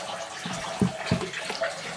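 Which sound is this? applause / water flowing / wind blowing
water flowing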